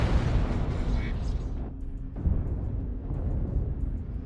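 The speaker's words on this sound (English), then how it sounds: "explosion!" A mech blows up in a BattleTech video game match, a heavy rumbling blast that cuts off into a brief hollow lull before the low roar resumes, under an excited commentator's voice.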